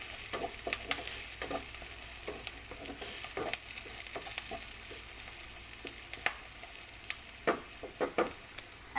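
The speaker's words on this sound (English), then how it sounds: "And now followed by garlic. Just saute for a few seconds," Garlic is sautéed in a pan, with a continuous close sizzle and a scatter of irregular spatula scrapes and taps against the pan, and no voices.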